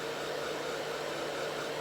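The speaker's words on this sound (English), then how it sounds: "The dryer works perfectly." Hair dryer drying wet magnetic lashes, a close steady whooshing roar with no variation throughout.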